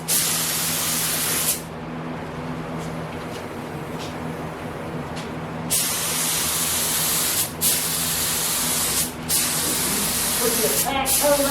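Spray gun hissing steadily as paint goes onto a truck, long continuous bursts with brief pauses between passes, loud and close, with voices speaking faintly in the background.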